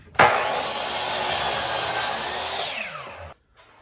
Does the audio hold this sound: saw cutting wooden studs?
yes